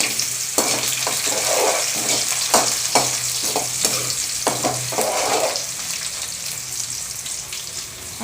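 Ingredients for chicken sukka fry in a pan, giving a continuous close sizzle broken by a rhythmic series of scraping stirs that fade toward the end, with no talking.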